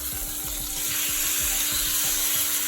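A steak sizzles in a hot pan just after being flipped, giving a loud continuous crackle and hiss with rapid popping spatter throughout.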